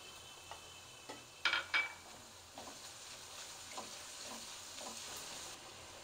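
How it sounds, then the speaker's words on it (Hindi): Onions, garlic and ginger frying in a pan for chicken rice, a soft steady sizzle with a few sharper stirring scrapes and clinks near the start, fairly quiet and with no talking. "अब इसमें लहसुन अदरक डाल देंगे। लहसुन अदरक को भी थोड़ा सा फ्राई करेंगे।"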